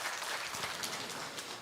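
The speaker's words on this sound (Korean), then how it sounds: "그런 의미에서 힘내시라고 우리 한 번 더 뜨겁게 박수 부탁드리겠습니다" A church congregation at a Sunday afternoon service claps warmly for its elders, a brief, faint, even patter of many hands heard from a distance.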